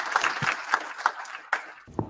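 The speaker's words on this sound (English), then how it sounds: "So let's give Minko a round of applause." A small audience applauds a speaker named Minko at an Angular meetup, giving a thin, brief patter of scattered claps, fairly close and fading after about two seconds.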